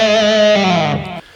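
Electric guitar playing a double-stop lick with a bend, sustained distorted tones gliding in pitch before cutting off abruptly, loud and close.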